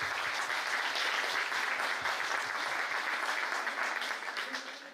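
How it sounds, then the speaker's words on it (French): An audience in a hall applauds a university team with a full, continuous burst of clapping that stays loud and dense throughout and thins slightly at the end. "moi je voudrais un applaudissement pour eux d'abord"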